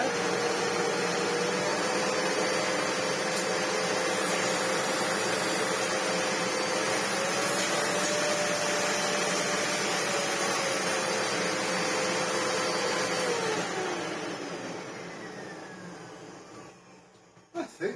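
A Miele U1 premium upright vacuum cleaner, its clogged motor fan just cleaned, runs steadily and loudly with a broad airy roar and a sustained motor whine that shifts slightly in pitch, then winds down at the end.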